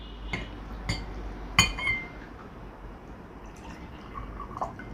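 Water goes into two drinking glasses, with a few sharp clinks of glass and light drips standing out near and clear against a quiet room background.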